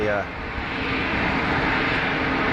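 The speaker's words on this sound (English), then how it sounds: "EasyJet on approach from Bordeaux" An EasyJet airliner arriving from Bordeaux on final approach to Geneva Airport gives a steady, loud jet roar that holds without a break.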